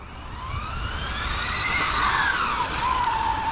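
A Maverick Quantum R radio-controlled car drifts, its small electric motor whining in rising and falling sweeps that climb steadily louder over a rough surface hiss, with no voices.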